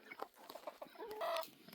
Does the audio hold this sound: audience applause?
no